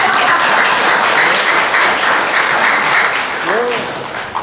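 Sustained congregation applause fills a Sunday worship service, dense and steady throughout, with a voice briefly heard near the end over the clapping.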